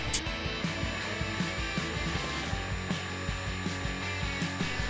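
A CNC router with an Amana tool bit cuts aluminum at 10,000 RPM and a feed of 30 inches per minute, giving a steady whining drone with regular rhythmic chatter from the cutter, close and continuous.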